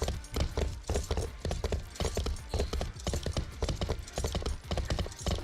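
Horse hooves clip-clop steadily in a video game, a close, rhythmic patter of hoofbeats on hard ground running throughout, with a faint whinny possible.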